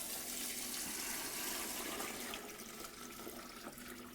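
Water pours steadily into a large cooking pot as four litres go in for a garbure, a continuous close splashing gush that lessens slightly toward the end.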